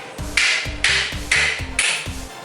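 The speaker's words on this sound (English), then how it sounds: "you just hammer it out of there" A hammer drives the center support bearing out of a BMW X3 (E83) driveshaft: four loud, close metallic blows in a steady rhythm, each ringing briefly with a harsh clang, no talking.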